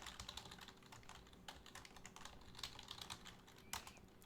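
A command being typed on a computer keyboard, quick irregular clicking keystrokes at close range, faint and without speech.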